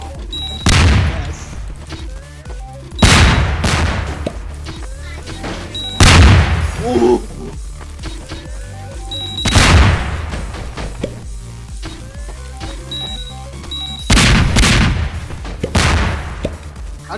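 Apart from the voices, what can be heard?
bomb explosions in video game Garry's Mod Melon Bomber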